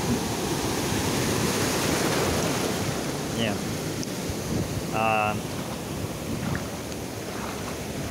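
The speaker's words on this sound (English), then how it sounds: "now the waves are coming" Ocean surf washing onto Karon Beach on the Andaman Sea in Phuket, Thailand: a steady, loud roar of breaking waves with wind buffeting the microphone, plus a brief voice and a short chirping sound partway through.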